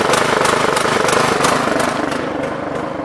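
A push lawn mower engine running close by, a loud, steady buzzing drone with a rapid pulsing chug and a slight drop in level toward the end.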